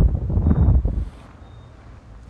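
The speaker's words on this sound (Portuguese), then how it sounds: "tá ventando" Strong wind from a cyclone in Itanhaém, Brazil buffets the microphone with low rumbling gusts, loud at first and then easing into a softer, steady rush.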